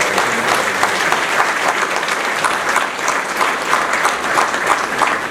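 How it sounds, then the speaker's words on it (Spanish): Audience applause at a professional accountants' college event, steady dense clapping from a seated crowd sustained throughout, loud and close with no talk over it. "Les pido un aplauso por favor a ellos"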